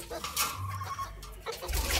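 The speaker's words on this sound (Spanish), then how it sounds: "son gallitos más o menos de un año, Alex" Roosters about a year old and young hens around eight months old cluck steadily at a breeding farm, close and fairly loud, with people talking over them.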